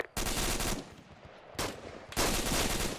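Rifle and machine-gun fire during platoon live-fire training, two loud sustained bursts of rapid shots separated by a short lull, close and harsh.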